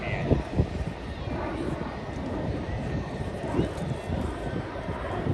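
A jet aircraft at an Alaska airshow, a steady broad roar that stays fairly distant beneath a voice talking over a loudspeaker.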